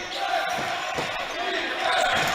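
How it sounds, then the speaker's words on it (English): Crowd noise roars steadily at a college basketball game, Yeshiva Macs hosting Mount Saint Mary, loud and continuous throughout, with a faint thump near the middle. "the crowd is still so into it"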